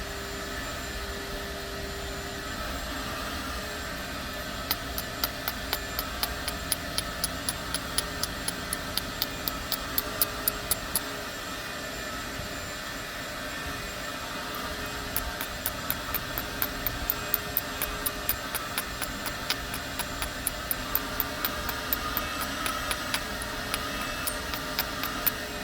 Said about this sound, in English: Sorry about the vacuum, man. Neighbors are going to town.